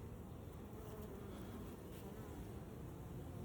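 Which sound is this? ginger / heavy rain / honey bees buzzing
honey bees buzzing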